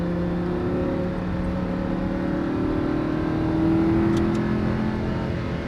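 A Lamborghini Huracan accelerates on a race track, its engine holding a loud, steady droning note that rises slightly in pitch as it pulls.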